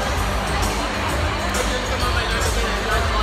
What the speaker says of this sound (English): I just want to show you guys the crowd before she comes on, because this crowd is in